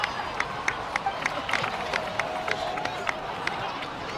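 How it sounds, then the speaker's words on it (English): Steady crowd applause in Genshin Impact, with scattered claps and cheers, a continuous bright wash of noise with a faint voice underneath. "please give another round of applause for them"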